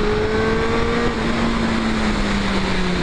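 A Suzuki Bandit 600's four-cylinder motorcycle engine revving steadily and close by, a loud, continuous droning tone that shifts slightly in pitch as the revs rise and settle.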